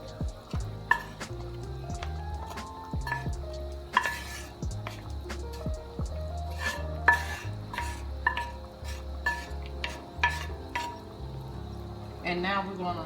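A metal utensil scrapes and clinks against a pan while cooked sausage and onion are lifted out, with scattered knocks and a faint sizzle under a voice talking throughout.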